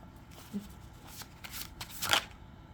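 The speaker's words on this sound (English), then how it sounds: "Let me just move this damn card so it's not the way." A tarot card slides and is shuffled across a table, a soft, close papery swish with a brief rustle building to a slightly louder flick near the end.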